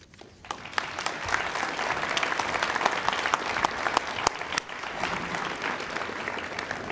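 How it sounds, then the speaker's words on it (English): Graduation audience applauding after a student's poem, a full, steady round of clapping from a large crowd that swells quickly and holds at an even, dense level throughout. "Let's give her one more round of applause."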